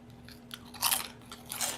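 Crisp, light crunching of a potato-flavoured diet snack, bitten and chewed close up in a few bursts with quiet pauses between them, with no talking.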